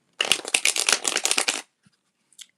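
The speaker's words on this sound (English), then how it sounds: "Do a couple more shuffles." A deck of tarot cards is riffle-shuffled close up, a crisp flurry of rapid card flicks lasting about a second and a half, then near silence with a couple of faint ticks.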